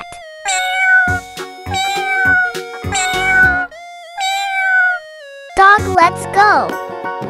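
A cat meows loudly several times in quick succession, each call rising and falling, with a short jingly tinkle mixed in.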